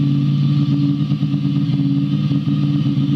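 A Ducati Monster motorcycle runs with a loud, steady, close engine rumble throughout as it sets off on a test ride, with no talk over it.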